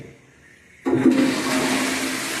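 A toilet flushes with a sudden loud rush of water that starts after a near-quiet moment and keeps gushing steadily, close by, with no talk.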